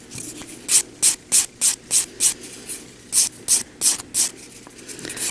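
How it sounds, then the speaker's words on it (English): Rhythmic strokes of a nail file against an acrylic nail, about eleven short rasping passes in two bursts with a brief pause between, close and clear with no talking. "I'm going to continue to file towards it until it flakes off"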